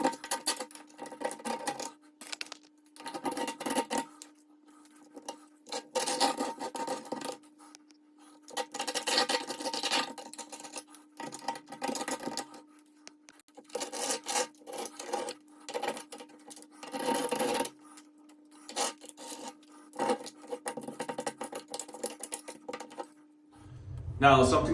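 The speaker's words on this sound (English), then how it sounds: "And then we'll get right into cleaning this out." Old caulk being scraped and picked out of a shower or bathtub seam, with short bursts of scratching and scraping separated by pauses, close and moderately loud over a faint steady hum.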